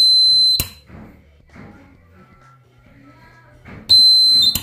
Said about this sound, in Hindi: जो बजर है वो यहाँ पर 9 वोल्ट की बैटरी थी, काफ़ी अच्छे तरीके से यहाँ पर बजता है